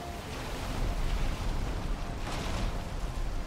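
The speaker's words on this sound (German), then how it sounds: "Das war, glaube ich, eine Welle." A wave breaks against a ship in Valheim, heard as a steady, loud wash of water and wind rushing over the hull that swells slightly partway through.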